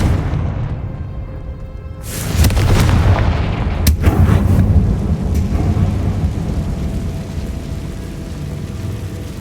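Confringo spell explosions in the Hogwarts Legacy video game, a loud booming blast followed by sharp cracks and a long rumbling, crackling roar that keeps going at high volume.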